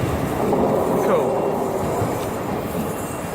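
A GWR train pulls away from a platform with loud, steady rolling rumble and a faint metallic wheel squeal rising partway through, heard up close.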